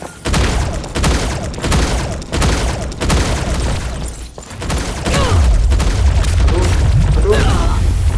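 Rapid bursts of gunfire and booming shots in the mobile shooter T3 Arena, loud and repeated in clusters throughout, with dense in-game battle effects under occasional voice.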